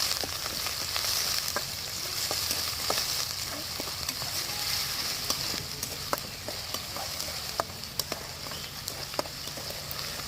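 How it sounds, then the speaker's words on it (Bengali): Leafy greens cooking in oil with sliced green chilies and chopped garlic on a village clay stove sputter with a steady sizzle, punctuated by sharp stirring taps and clinks at irregular intervals. "আর এখন হচ্ছে আমি শাক রান্নাটা বসিয়ে দিলাম"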